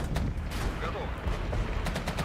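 Rapid gunfire from assault engineer infantry in a modern NATO-versus-Soviet wargame, a dense, continuous crackle of shots and bursts running steadily throughout with sharp transients.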